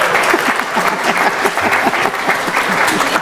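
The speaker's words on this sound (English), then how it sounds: "Big hand for the judges." An audience at a business book awards ceremony applauds the judges with loud, close, vigorous clapping that stays dense and steady throughout, individual claps audible within the continuous roar.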